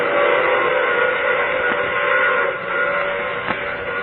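A train sound effect from an old radio drama: a loud, steady steam whistle blast over rolling rail noise, close and continuous with no talking.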